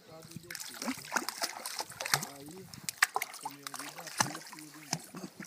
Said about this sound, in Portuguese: Ele bate na água, a água bate no focinho dele e quer morder a água.